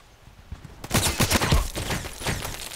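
Rapid machine gun fire in the online shooter Contract Wars: a dense, loud burst of quick rattling shots starting after a short quiet lead-in and continuing steadily to the end.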